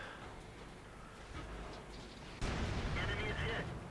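A World of Tanks tank gun fires once in a single heavy, muffled boom that follows a low rumble of battle ambience.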